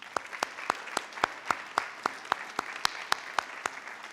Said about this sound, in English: I just want to give a round of applause for all the parents in attendance